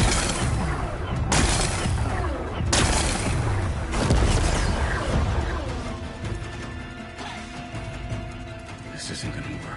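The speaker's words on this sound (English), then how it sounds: "Exploding." Rock-blasting explosions in Horizon Forbidden West, a few loud crashing booms with a long rumbling tail, mixed with game music and effects.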